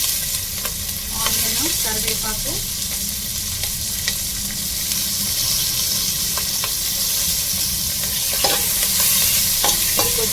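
Cumin seeds fry in hot oil for plain bagara rice, a dense continuous sizzle with scattered crackles and occasional scraping stirs close up.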